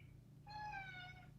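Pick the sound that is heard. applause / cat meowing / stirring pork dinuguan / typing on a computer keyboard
cat meowing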